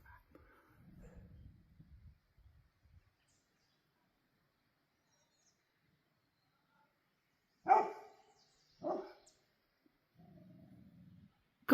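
Two sharp dog barks ring out in a quiet outdoor setting, preceded and followed by faint low rumbling sounds.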